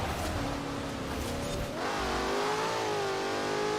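A 2015 Jaguar F-Type R Coupe in Forza Horizon 4 revs hard, the engine note climbing and swelling in rising sweeps and staying loud and close throughout, with no talking.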